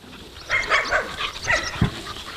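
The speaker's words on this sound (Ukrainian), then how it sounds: "Щодня тут годують та лікують майже 300 собак." Several dogs bark and yip together at an animal shelter, a busy chorus of barking echoing nearby with no talking.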